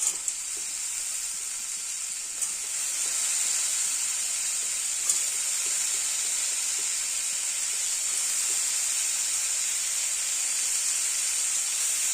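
Potato, pointed gourd and soaked peas sautéing in a pan, giving a steady, close sizzle and hiss that runs on evenly with faint stirring ticks and no talk.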